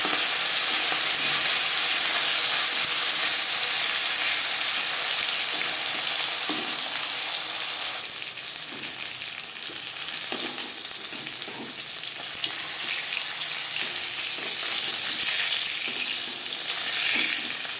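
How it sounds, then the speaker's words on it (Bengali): Marinated rohu fish fries in oil in a pan, a loud, dense sizzle that runs throughout, with occasional spatula knocks and scrapes in the later part. "একটা সাইড ভাজা হয়ে গেলে অপর সাইডটা উল্টে দেবো।"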